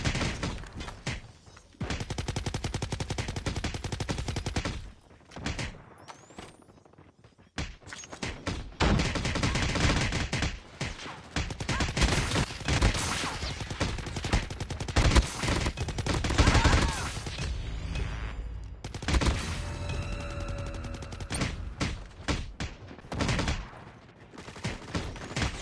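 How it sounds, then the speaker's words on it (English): Gunfire in the mobile shooter game Call of Duty Mobile, with dense bursts of rapid automatic shots and repeated volleys filling most of the stretch, broken by brief quiet gaps, loud and close in the mix. "these shots are far"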